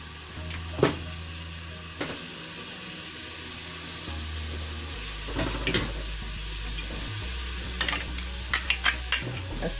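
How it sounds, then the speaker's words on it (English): Pieces of marinated goat meat for Caribbean curry sizzle steadily in a hot pot, a constant frying hiss with occasional stirring clinks and scrapes, close and clear without talk. "I don't know if you could hear that sizzling already."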